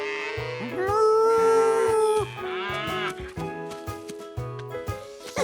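Several drawn-out cow moos sound over a bouncy musical backing, the lowing calls long and tonal, close and fairly loud.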